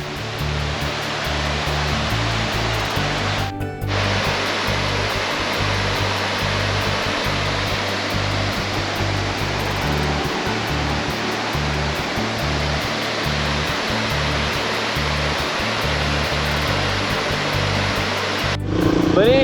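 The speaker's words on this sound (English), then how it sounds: "a waterfall with a swimming hole right on the river" A waterfall pouring into a swimming hole on a river, a loud, steady broadband rush of falling water that continues unbroken, with a couple of brief clicks.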